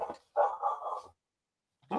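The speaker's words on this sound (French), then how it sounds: "Ah, il y a un chien." A dog barking indoors in the background, a few short barks with a pause between them, heard alone at moderate volume.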